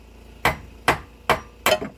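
A hammer drives a steel punch during a 3-inch Rough Country lift kit install on a Jeep Cherokee XJ, with four sharp, close metallic strikes spaced evenly about every half second.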